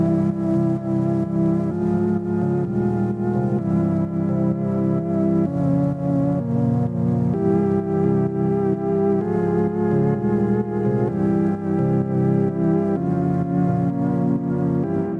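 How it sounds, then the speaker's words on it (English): Sustained FM keys chords from a Serum synth patch, EQ-shaped with retro colouring and sidechain pumping, play alone in a steady bass house progression. "It is an FM keys patch from Serum, and I also applied EQ to shape a sound a bit, retro color, and the sidechain."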